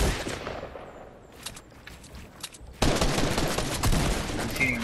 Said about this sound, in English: I'm shooting him out.